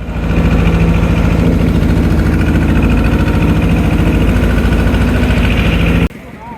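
A fishing trawler's engine idles at sea on the Bay of Bengal, a steady loud low rumble with vibration running without pause, then cutting to a quieter tail at the end.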